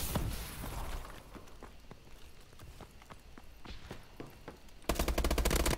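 Rapid bursts of automatic gunfire in the Call of Duty: Advanced Warfare video game, sharp repeated shots cracking at an uneven rhythm, with a louder, denser volley near the end.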